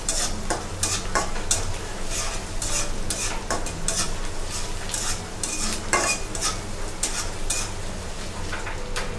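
Onions frying in a pan for a potato and rohu fish curry, with a constant close sizzle and a quick rhythm of spatula scrapes and clinks against the pan throughout.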